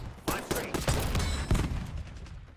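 Bursts of SMG fire in a hardcore-mode shooter video game, rapid close volleys with a voice talking faintly underneath.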